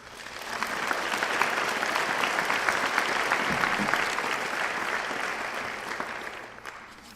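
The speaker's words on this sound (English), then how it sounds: "let's give our board a round of applause" An audience at a National Honor Society induction ceremony gives the student board a full round of applause, a thick, even wash of clapping that holds strong for several seconds and then tapers slightly.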